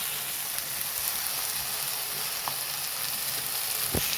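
Onion, tomato and masala paste for a mushroom gravy frying in oil, a steady close sizzle and crackle running throughout with a couple of faint stirring clicks and no talking.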